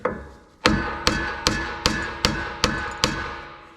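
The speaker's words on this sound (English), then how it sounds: "I'm also going to tap this with this hammer here" A hammer strikes a steel suspension part on a Chevrolet Trailblazer SS eight times in an even rhythm during ball joint replacement, each sharp ringing clang fading before the next; close and fairly loud, no voices.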